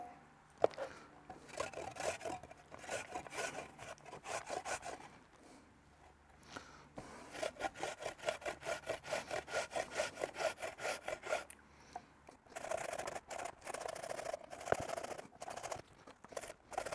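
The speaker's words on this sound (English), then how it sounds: "What we can do is coarsely grate this." Summer squash is coarsely grated in quick, rhythmic rasping strokes that come in long bursts separated by short pauses, close and fairly quiet.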